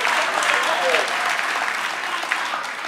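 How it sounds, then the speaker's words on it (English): A crowd at a university graduation ceremony claps in sustained, dense applause throughout, with faint voices beneath the clapping. "give him a big round of applause"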